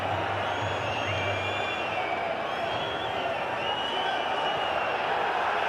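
Football stadium crowd at VfL Bochum against SC Freiburg in a DFB-Pokal quarter-final, a steady roaring wash of voices and whistles filling the ground as the referee gives a final warning, with a commentator talking over it.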